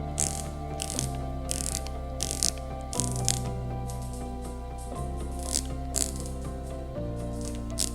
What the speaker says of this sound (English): The bezel is extremely crisp, and I'm gonna try to capture that audio a little bit here.